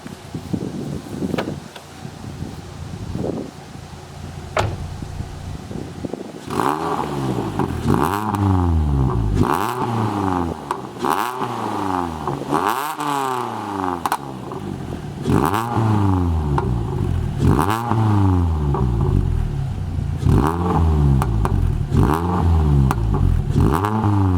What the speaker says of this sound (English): I'll just give it a few revs and it does pop a little bit as well